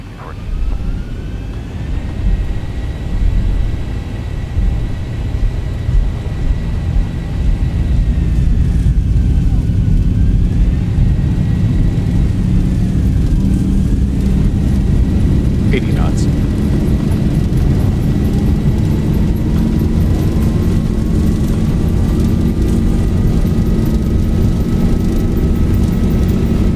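Boeing 737-800 jet in X-Plane 12 rolling down the runway for takeoff, a loud steady engine roar building and holding throughout, with a rising tonal whine and brief radio-style voices in the background.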